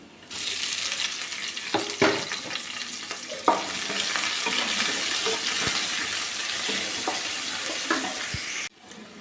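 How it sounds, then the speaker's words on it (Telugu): Garlic, curry leaves and onions frying in hot oil in a kadai, a steady loud sizzle with a few sharp crackles and spatters throughout, no voices. "ఈ వెల్లుల్లి కరివేపాకు అన్నీ బాగా వేగిని పోపేస్తున్నాం ఇంకా వేగుతుంటే కమ్మటి వాసన వస్తుంది అలాగే ఉల్లిపాయలు కూడా వేసుకున్నాం"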